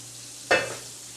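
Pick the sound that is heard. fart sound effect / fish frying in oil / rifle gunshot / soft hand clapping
fish frying in oil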